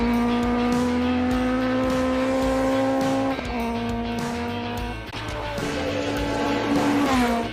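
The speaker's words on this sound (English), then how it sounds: "Cobra, huge power, V8, Daytona Coupe." A Shelby Cobra Daytona Coupe with a powerful V8 races up a hill climb course, its loud, rich engine note roaring continuously with brief dips at gear changes and under braking before surging again, heard up close.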